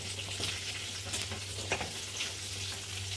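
Chopped cucumber goes into a pan of frying onion and tomato, with a continuous hiss and a few soft stirring scrapes close by.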